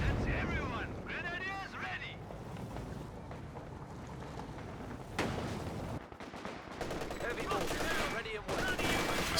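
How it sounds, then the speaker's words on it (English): A captured MG34 machine gun firing in Company of Heroes 2: bursts of rapid gunfire amid battle noise, with someone talking over the action. "Stolen MG34 getting busy here."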